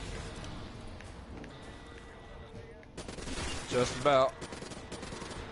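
Rapid gunfire from a video game zombie mode, fired at a horde of zombies: quiet scattered shots at first, then a dense, louder burst of fire toward the end, with a voice briefly speaking over it.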